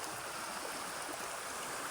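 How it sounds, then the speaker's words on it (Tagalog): A strong river current flows at a crossing point with high, fast water, a steady broad rushing wash with no pauses and no voices. "Bumaba ang tubig pero lumakas po ang agos mga idol."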